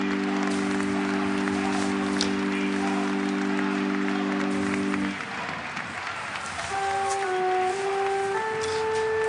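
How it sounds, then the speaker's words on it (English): Crowd applause at Pope Benedict XVI's funeral, a broad steady wash of distant clapping from a large outdoor gathering, with a held organ-like tone early and musical notes entering later. "And applause from among the crowds here"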